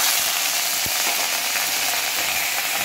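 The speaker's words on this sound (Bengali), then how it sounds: "তো দিয়ে দিচ্ছি আদা জিরে বাটা" Ginger and cumin paste frying in oil for a soybean dish, giving a steady close hiss and sizzle with faint scattered crackles and the odd stir, no voices.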